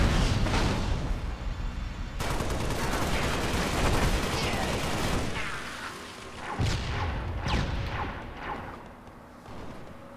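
Gunfire crackles in the top-down shooter video game Halo: Spartan Assault, dense bursts of shots and booms filling most of the stretch, loud and continuous with a few lulls.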